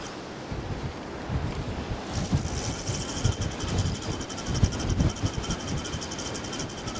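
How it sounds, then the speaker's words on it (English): Strong storm wind gusting by the sea during Storm Isha while fishing, a loud continuous roar and buffeting across the microphone with rushing surf underneath, building in strength throughout. "Wow, this wind's getting up."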